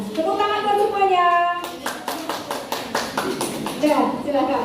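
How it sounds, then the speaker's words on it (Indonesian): A classroom of children breaks into a burst of clapping, dense and close for a couple of seconds, with children's voices and chatter before and after it. "Tepuk tangan buat semuanya."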